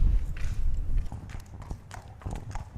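A horse's hooves clip-clop at a stud farm's stallion presentation, with a steady run of close, fairly loud hoof strikes over low rumbling background noise.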